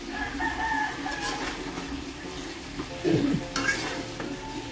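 Ground chayote stirred and frying in a pan, with a steady soft sizzle and a few louder scraping stirs near the end, while a rooster crows faintly in the background.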